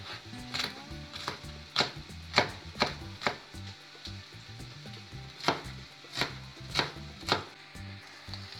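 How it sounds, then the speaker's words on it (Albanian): A knife chops bell peppers into small cubes on a board, about a dozen crisp, evenly spaced strikes at close range, with short pauses between groups. "Edhe specat do t'i presim në kubik të vegjël."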